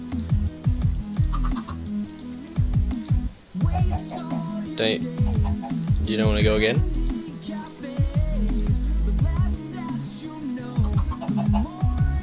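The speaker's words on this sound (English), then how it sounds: "There's a chicken there." Chickens clucking in the Minecraft video game, several short bursts of clucks scattered across the clip while someone talks over them.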